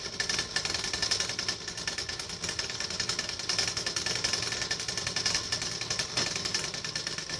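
A domestic sewing machine stitching lining fabric onto a blouse edge runs steadily and continuously, close by, with a dense whirring rattle and no talk.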